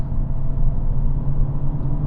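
A steady, deep engine rumble from a 2022 Hyundai Elantra N in loud exhaust mode on back roads, droning continuously from inside the moving car, loud and low without clear gear changes.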